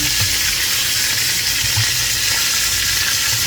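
Stuffed milkfish (rellenong bangus) fries in a pan, giving a loud, steady, close sizzle with bright crackling throughout and faint low bumps underneath.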